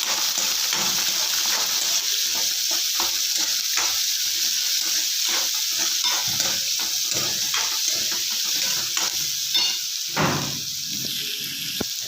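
Chopped onions frying in a pan for North Karnataka-style chitranna, with a dense continuous sizzle and frequent scraping stirs throughout, close and fairly loud.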